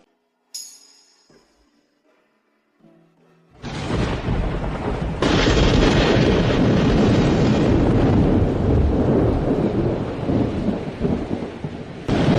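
Heavy rain pours steadily after a loud rumble of thunder, the downpour building into a dense, continuous roar with deep low rumbling underneath.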